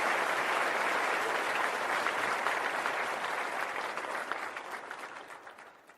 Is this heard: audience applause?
yes